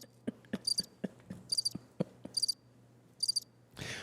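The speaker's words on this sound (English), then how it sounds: "I had to do the crickets." Crickets chirp in short, bright repeated bursts, about four evenly spaced trills, over soft intermittent thumps and low background hum, with a louder rush at the end.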